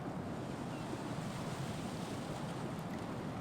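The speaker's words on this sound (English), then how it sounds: "Just hearing Raiden jump into the water." Water surging and splashing in Metal Gear Solid 2: Sons of Liberty after Raiden jumps in, a steady broad wash like surf that stays alone and even for the whole stretch.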